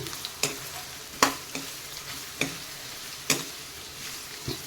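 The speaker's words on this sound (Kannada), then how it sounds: "ಈ ಥರ ಎಣ್ಣೆಯಲ್ಲಿ ಎಲ್ಲವನ್ನು ಚೆನ್ನಾಗಿ ನಾವು ಫ್ರೈ ಮಾಡ್ಕೋಬೇಕು" Carrots and other vegetables fry in oil for fried rice, a soft steady sizzle broken by sharp scraping stirs and spatula taps every second or so.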